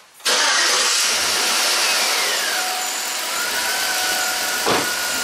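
A Chevy Tahoe with a cylinder five misfire cranks and fires abruptly, then settles into a loud, close, rough idle with uneven low thumps.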